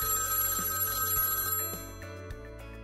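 An outgoing business phone call rings on the line with a steady electronic telephone ring tone under a low hum, then fades to quieter ringing.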